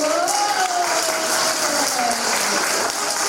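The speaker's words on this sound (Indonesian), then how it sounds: "Oke, tepuk tangan untuk guru-guru Santa Clara." Applause for the teachers of Santa Clara Catholic junior high school, a steady wash of clapping lasting several seconds with a faint tonal line running through it.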